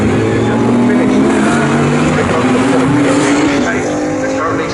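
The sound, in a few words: GT race cars racing at Snetterton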